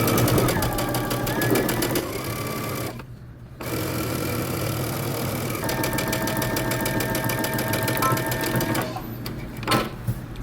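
A sewing machine joining shirt-dress sleeves hums and clatters loudly and close with a fast steady rhythm. It breaks off briefly, then runs on continuously.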